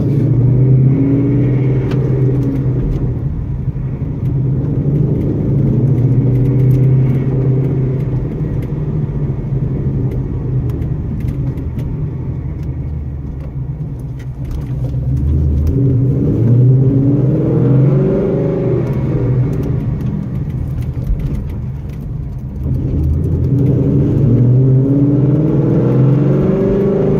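Loud, close engine of a 2015 Ford Mustang GT race car pulling away, rumbling and revving in repeated surges as it accelerates through gears.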